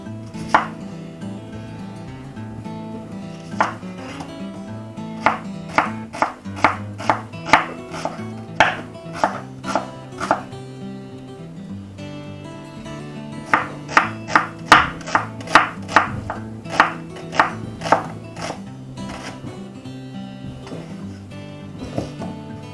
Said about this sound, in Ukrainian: Так, тепер цибульку ми нарізаємо, як, як завжди.